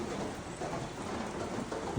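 Steady rain falls during a May mountain hike on Khomiak in the Carpathians, a continuous close hiss of drops with no voices over it.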